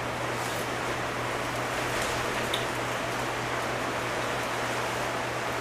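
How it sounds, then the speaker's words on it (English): Steady, dense hiss of heavy rain falling continuously, filling the space with a constant wash of noise and no voices. "If you can hear that, that's the rain that is happening right now."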